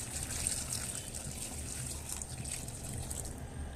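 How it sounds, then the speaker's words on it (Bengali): Hot water pours into a cooking pot with a steady, even trickling rush that lasts throughout, moderately quiet and close, with no one speaking. "গরম পানি দিয়ে দিলাম"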